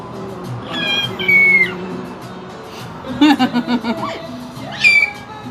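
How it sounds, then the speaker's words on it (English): A woman's high, squeaky whistling notes come in short bursts, with a rapid chirping run in the middle and another squeak near the end, over background chatter. "When she wants to whistle, she makes that annoying squeaky"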